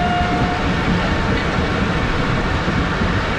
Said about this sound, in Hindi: चार बजे ट्रेन हमारी अप्रोच बना रही है शादापुर रेलवे स्टेशन पर